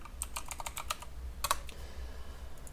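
Python code typed on a computer keyboard, a steady run of close, crisp keystrokes in uneven rhythm with a brief flurry of faster taps midway, over a low background hum, no talking.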